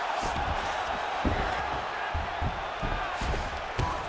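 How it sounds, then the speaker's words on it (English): A video game arena crowd roars steadily at a UFC fight in EA Sports UFC 5, with constant dense cheering and occasional thuds and whoops, loud and continuous throughout. "the crowd is loving it"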